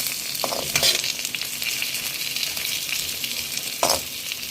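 Pork igado, a Filipino pork dish made here without liver, sizzles steadily in a pan. There is a continuous hiss with a couple of louder stirring scrapes, close and with no talk.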